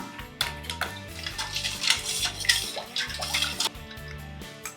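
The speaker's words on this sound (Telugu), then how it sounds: "ఐస్ పీసెస్ కూడా వేసేస్తున్నా" Ice pieces dropped into a bowl of sugar water for lemonade, making several splashy clinks and knocks over background music.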